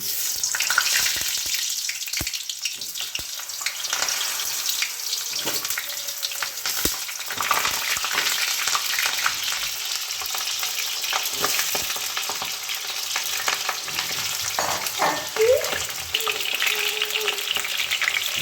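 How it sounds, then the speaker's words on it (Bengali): Potato pieces frying in hot oil for a thin chicken curry, a steady bright sizzle that runs the whole time with occasional stirring clinks and scrapes, no voices. "আমি প্রথমে আলুগুলো ফ্রাই করে নেব"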